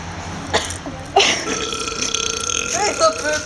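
A belching competition: a loud, drawn-out burp rumbles close by for a couple of seconds, with lighter vocal noises before and after it.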